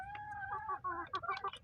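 A hen clucks repeatedly in a series of close, rising and falling calls, with no one talking.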